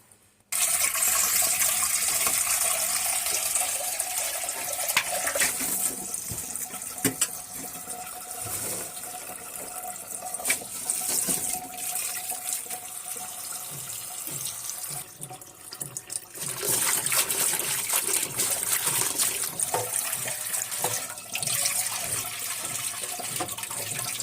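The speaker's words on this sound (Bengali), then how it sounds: "এদিকে সিমগুলো কাটতে নিয়ে আমি শাকগুলো ধুয়ে নেই।" Leafy greens being washed under a running kitchen tap, a steady loud rush and splash of water with shifting spatters as the leaves are handled, continuing throughout.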